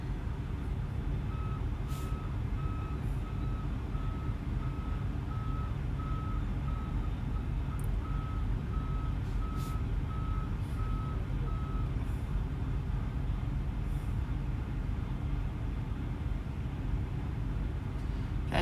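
A truck reverses with a steady series of evenly spaced backup beeps that stop partway through, over a constant loud engine rumble.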